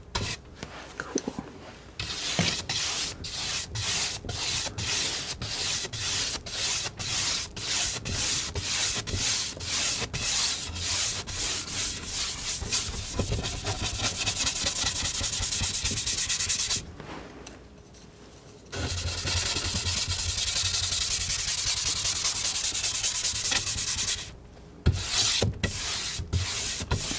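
Palette knife spreading a thin wet layer of paint across a wooden panel, a close, continuous rhythmic scraping and rubbing with quick repeated strokes, pausing briefly twice before resuming.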